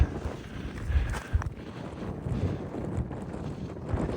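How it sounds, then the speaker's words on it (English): Wind gusts buffet the microphone outdoors on the Larapinta Trail, a rough low rumble that swells and dips throughout with scattered bumps. "Been a little bit breezy all night."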